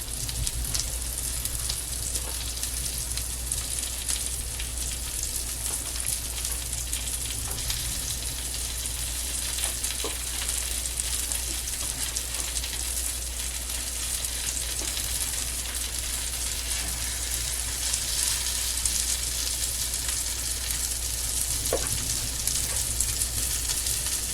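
Shrimp cooking in an unevenly heated pan for honey lemon shrimp, a steady, dense sizzle with soft crackles holding evenly for a long stretch, no voices.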